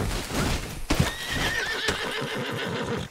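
A horse in the Red Dead Redemption 2 video game lets out a loud, clear whinny in the middle of a steady galloping rumble, and rhythmic hoofbeats follow toward the end.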